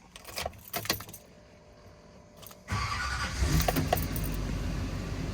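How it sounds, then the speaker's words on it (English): Keys jingle briefly, then a Duramax diesel truck engine cranks and starts at about the three-second mark, settling into a steady, fairly loud idle. "Step 1, fire up mega truck."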